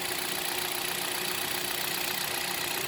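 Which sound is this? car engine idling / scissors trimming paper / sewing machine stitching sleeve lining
car engine idling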